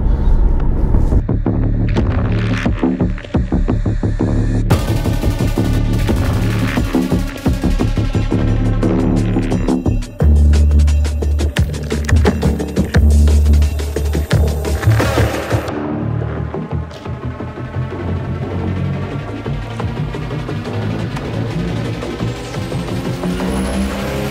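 VW Sharan 1.9 TDI 4Motion on summer tyres straining to climb a slippery hill, a loud throbbing diesel drone with revs surging and dropping and rough rumbling bursts, continuous for the whole stretch.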